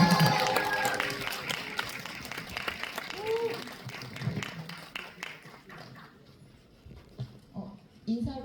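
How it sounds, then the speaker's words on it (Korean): Cinema audience applause greets a film's director and actors at a release-day screening Q&A in a Seoul multiplex hall, starting under an announcer's voice and then thinning out to scattered claps and crowd murmur. "큰 박수로 맞이해 주시면 감사하겠습니다"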